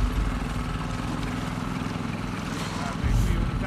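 A boat engine runs steadily in The Last of Us Part II, a continuous low motor drone with a slight rise in loudness near the end.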